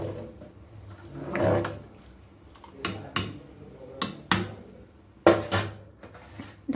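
A lid goes onto a pot of cooking rice with a few scattered hard clanks and metallic knocks, close by, after a softer rustle, with no one speaking.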